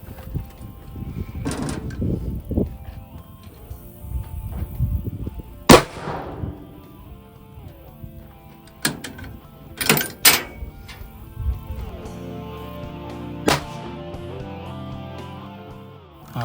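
A .308 rifle is fired at a Bulletsafe bulletproof vest outdoors, giving a sharp, loud crack that echoes briefly, with a few more sharp impacts and bangs afterward and no talking.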